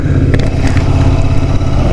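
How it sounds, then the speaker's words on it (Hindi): Motorcycle engine droning steadily while riding slowly in extreme summer heat near Banaras, a low continuous rumble with wind noise close to the microphone, no speech. "भाई अब बाइक हल्की सी हुई है ना, स्पीड हल्की हुई है"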